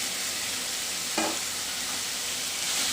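Tomatoes fry in a pan for chicken liver gravy, making a steady, dense sizzle with a brief louder burst as they go in.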